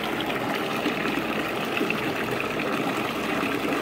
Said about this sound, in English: Cranking more hot water in because this stuff gets pretty cold at a decent speed